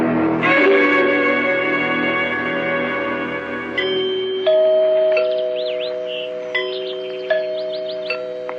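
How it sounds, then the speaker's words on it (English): Chimes ring out in an old-time radio mystery drama, a resonant tolling like a house's tower bell: a sustained ringing tone first, then a series of clear struck strikes that decay slowly, loud and alone without speech. "Did you hear the chimes?"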